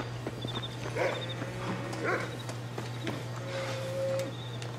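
A dog barks excitedly in Red Dead Redemption, short yips repeating about once a second over a steady low hum, with hoof clip-clops and a faint musical tone in the background.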